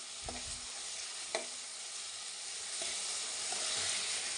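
Onions and tomatoes cook down in a pan for tomato chutney, a constant close sizzle under a few clear knocks and scrapes of a spoon stirring them, with no talking.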